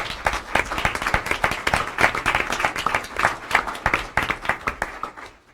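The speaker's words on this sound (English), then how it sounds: "Let's give the staff one more round of applause." Staff at a transit agency board meeting receive a round of audience applause, with dense overlapping claps across the whole stretch and close individual hand claps standing out from the room.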